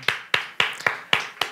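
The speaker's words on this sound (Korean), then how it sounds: "우리 하나님께 감사의 박수 돌리겠습니다." Church congregation at a Wednesday worship service clapping in a slow, even rhythm, six distinct claps in quick succession, close and clear with no talk.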